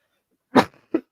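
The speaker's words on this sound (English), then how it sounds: "Let me cough." A single sharp cough, close and loud, followed by two shorter bursts that sound like further coughing or throat noise.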